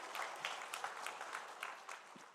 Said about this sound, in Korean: 우리 격려와 응원과 축복의 박수